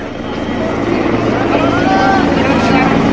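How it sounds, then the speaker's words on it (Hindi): Chief minister's helicopter flying over the Ram temple complex in Ayodhya amid a large crowd, a loud steady rotor and engine roar throughout, rising slightly, with a voice talking over it. "लगातार राम मंदिर परिसर के ऊपर सीएम का ये हेलीकॉप्टर उड़ रहा है।"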